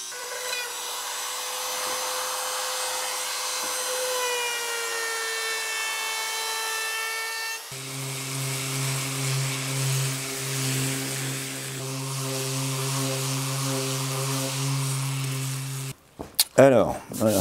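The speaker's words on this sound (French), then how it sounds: "Alors, voilà, j'ai tout poncé." A power sander works a wooden end-grain cutting board with a steady, loud motor whine that drops in pitch midway and runs continuously before cutting off near the end.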